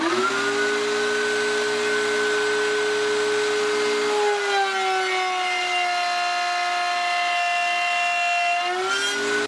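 A router bit spins in a router table and cuts a wooden workpiece. A steady, high motor whine drops in pitch midway as the bit bites into the wood, then climbs back near the end.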